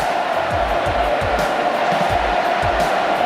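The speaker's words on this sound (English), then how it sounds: "Listen to the crowd." A large stadium crowd at a football match roars in a continuous wash of cheering, with rhythmic low thuds pulsing beneath the steady noise.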